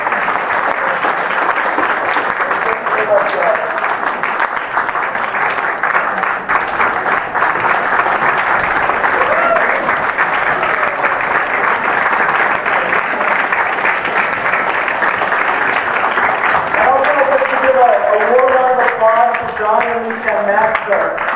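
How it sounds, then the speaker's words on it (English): A church audience applauds after a Christmas outreach performance of carols, loud sustained clapping that fills the hall, with a few voices and cheers rising near the end. "let's give a round of applause for Pastor Carole."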